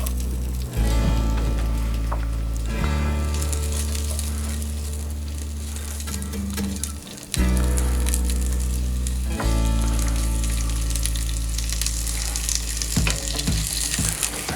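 Onions fry in hot oil in a pot over high heat, giving a loud close sizzle and crackle, with clunks of stirring and a sudden surge in the hiss partway through.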